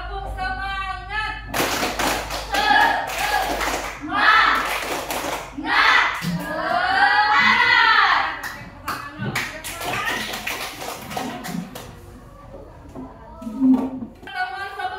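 A classroom of pupils claps in rhythmic patterned bursts for a spirit-clap chant, loud and close, mixed with chanting voices and some shuffling, with teacher talk near the end.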